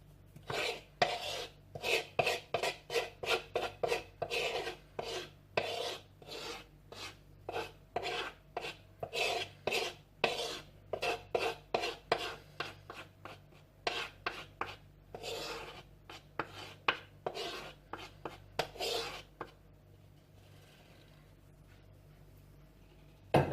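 Chocolate mug cake batter is scraped from a bowl into a mug with close, rhythmic scraping strokes, many in quick succession, before they stop near the end.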